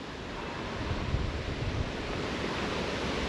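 Strong wind buffets the microphone at a windy coastal spot, with surf rolling beneath it in a steady, loud roar that swells slightly midway and never lets up.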